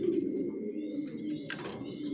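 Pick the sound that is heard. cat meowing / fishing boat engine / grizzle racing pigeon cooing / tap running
grizzle racing pigeon cooing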